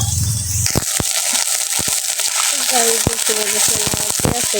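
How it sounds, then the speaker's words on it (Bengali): Chopped onions sizzle and crackle in a hot pan while being cooked for a mango and taro-stem curry, a steady frying hiss with scraping stirs and a voice talking over it. "পেঁয়াজটা ভালোভাবে ভাইজে নিতেছি"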